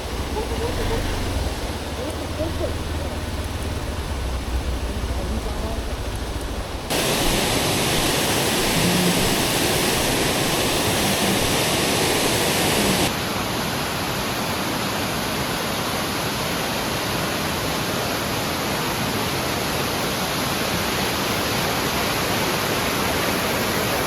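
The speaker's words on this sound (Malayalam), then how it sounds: "അങ്ങനെ ഒരു വെള്ളച്ചാട്ടമാണ് ഇതേ ഫ്രണ്ടിൽ കാണുന്നത്." A monsoon waterfall near Munnar roars as a dense, constant rush of falling water, loud and unbroken, with its tone shifting abruptly a couple of times.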